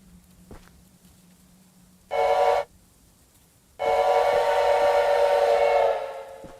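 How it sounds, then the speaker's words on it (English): A train approaching in the video game Choo-Choo Charles, giving two loud whistle-like blasts, a short one then a long sustained one, over a faint low hum with no talk. "Is that the train?"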